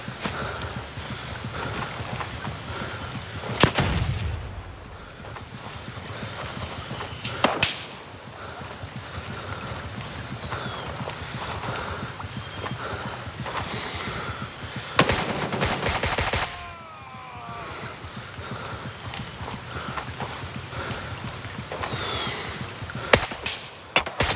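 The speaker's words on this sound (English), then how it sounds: "those are horrible shots, guys, but still dropped them with 2 bullets" Rifle gunfire in the video game Gray Zone Warfare, comparing 7.62 and 5.45 rounds: a few sharp isolated shots spaced seconds apart, including a tight burst, over a steady ambient bed of game background noise.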